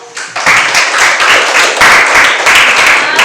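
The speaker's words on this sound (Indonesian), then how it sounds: "Oke, tepuk tangan nomor 1." Classroom applause in a Balinese language lesson after a quiz answer, loud close clapping from a group of students that starts abruptly and continues in a steady, rhythmic wash.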